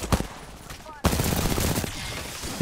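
Automatic gunfire from Apex Legends crackles in rapid bursts, a brief lull then a dense, loud stream of shots continuing to the end, with a voice speaking over part of it.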